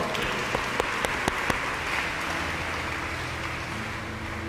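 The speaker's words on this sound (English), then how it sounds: "Let us give a clap for" Attendees at a family retreat in St Peter's, Bandra, give a soft, dense round of clapping, a few sharper claps standing out early, fairly faint and distant, with no talk.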